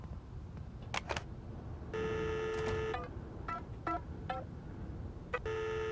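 Phone keypad tones in the game Colina: Legacy as the number 1225 is dialed, several short beeps and longer steady tones spaced unevenly over a low rumbling background.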